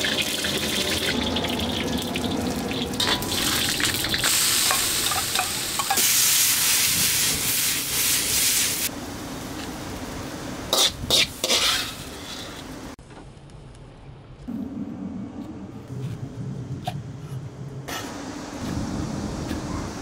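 Pork sizzles and hisses as it is stir-fried in a wok with a little oil, a loud, steady frying roar with bursts of spattering, briefly dropping quieter before the sizzle picks back up.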